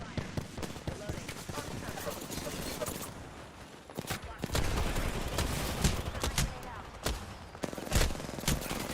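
Rapid automatic gunfire from an online shooter video game, dense bursts of machine-gun fire that intensify in the second half, loud and close, with game voice callouts mixed in.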